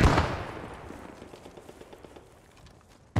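Machine gun in Post Scriptum opening with a loud close burst, then a steady run of fainter rapid shots fading into the distance before one more sharp nearby crack at the end.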